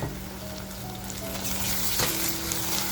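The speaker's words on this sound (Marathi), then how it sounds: "तो ठेचा आपल्याला छान या तेलाबरोबर म्हणजे कांद्याबरोबरच आपल्याला मस्त फ्राय करून घ्यायचा" Crushed ginger, garlic and green chili paste frying with onions in hot oil, a steady close sizzle with crackling spits and occasional stirring, no voices.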